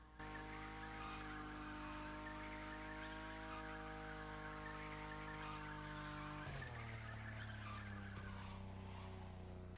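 Engine drone and tire squeal from a car drifting in the video game The Crew Motorfest, holding a steady loud roar throughout with a shift in engine pitch about two-thirds of the way through.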